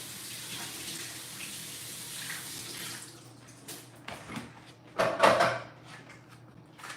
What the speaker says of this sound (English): I'm just quickly rinsing out the juicer